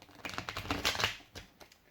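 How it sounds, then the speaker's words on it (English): A tarot card deck being shuffled, giving a quick run of crisp papery riffles and flicks in short bursts, close up and fairly quiet, with no talking. "this deck is so hard to shuffle!"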